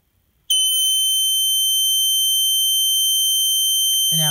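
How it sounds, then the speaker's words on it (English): A Snap Circuits alarm horn, set off when a mirror reflects light onto a phototransistor, switches on abruptly and holds a loud, steady, piercing electronic tone with sharp high harmonics that continues without a break. "And now the horn sounds when the mirror reflects light onto the phototransistor."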